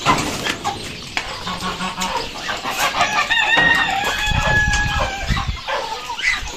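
Broiler chickens cluck close by while a rooster crows loudly, with other birds and farmyard noises mixed in.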